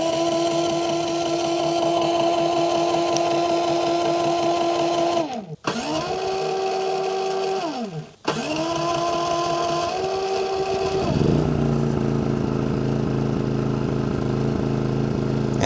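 A propane generator runs steadily with no load, a close, even engine drone with a couple of short dips in speed as it settles. Near the end its pitch drops to a lower, rougher idle. No talking.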